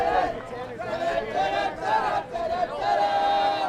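Spectators at a WIAA sectional final high school baseball game between Mosinee and Xavier shout and cheer together, a steady mass of voices with raised yells that rise and fall over a few seconds.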